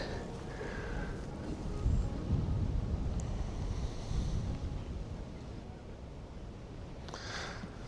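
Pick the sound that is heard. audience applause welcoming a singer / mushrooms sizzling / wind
wind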